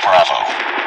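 Gunfire in the game Call of Duty Mobile cracks in a short, loud burst of shots blurring together, close up and fading quickly.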